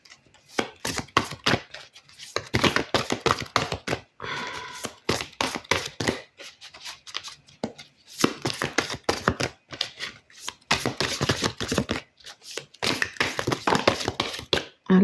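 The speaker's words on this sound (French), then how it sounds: "c'est pas évident de mélanger le paquet" A deck of large playing cards being shuffled by hand, heard as close, rapid bursts of riffling and slapping in irregular clusters separated by short pauses, with no voices.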